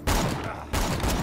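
Gunfire in the video game Borderlands 2 comes as two loud, close bursts of rapid shots separated by a brief lull.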